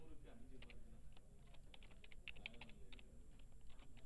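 Keys clatter in quick irregular bursts as a file name is typed on a computer keyboard, fairly close and steady over a low hum, with no one speaking.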